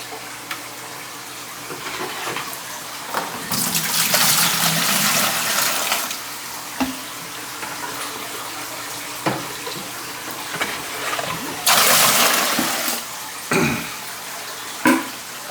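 Aquarium water drawn from a tank's sump pours into a bucket in two loud bursts of splashing, separated by quieter stretches with small knocks and handling noises; no one speaks.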